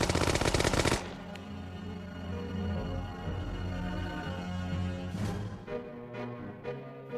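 A military machine gun fires a rapid, loud burst for about a second, then the sound drops into a lower, sustained rumble with further sharp bursts near the end.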